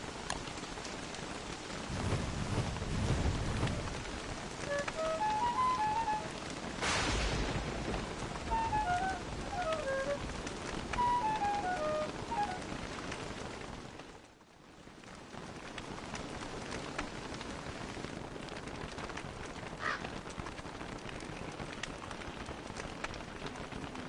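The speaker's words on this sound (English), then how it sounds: "Oh, come on, stop that rain." Steady heavy rain falls in the video game Don't Starve: Reign of Giants, with a rumble of thunder and scattered in-game chimes, loud and continuous with no talk.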